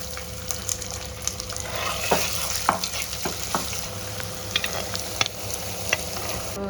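Green chillies and onions fry in hot oil with a steady sizzle, while a utensil stirs and scrapes the pan in scattered light knocks, fairly close and without any talking.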